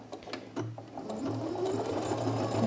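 A sewing machine runs in short bursts and then a steady whir as it stitches fabric to join up seam lines, close and fairly quiet with no talking.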